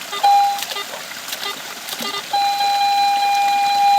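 A Garrett AT Pro metal detector held in water gives out steady electronic tones, a short beep first, then a long sustained pitch that runs to the end, with faint splashy movement around it.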